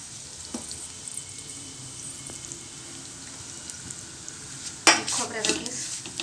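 Grated coconut and raisins roasted in a pan, a low steady sizzle with faint scattered stirring, then a burst of louder scraping and clattering near the end.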